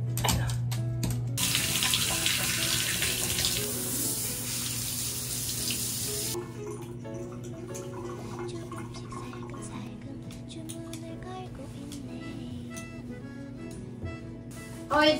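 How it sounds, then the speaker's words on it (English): A tap runs steadily into a sink while a small dog's paws are washed, a loud continuous rush of water that drops to a quieter stream partway through, with light clatter and a brief voice at the end. "It's time to wash Mongmong's paws now."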